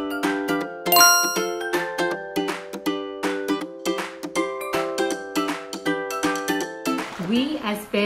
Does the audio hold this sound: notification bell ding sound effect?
yes